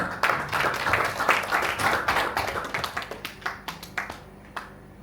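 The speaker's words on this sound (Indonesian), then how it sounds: "Tepuk tangan." A crowd applauds with dense clapping that thins out into a few scattered, separate claps as it dies away.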